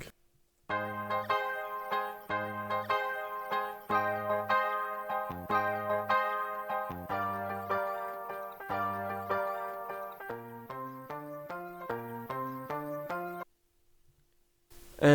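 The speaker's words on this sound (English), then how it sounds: "I then pitched it higher. I also sped it to be a little bit more faster and chopped it" Soulful R&B sample pitched up, sped up and chopped into short slices: clear melodic tones with choppy, stuttering phrases at a steady tempo, loud and alone before a sudden cut to silence.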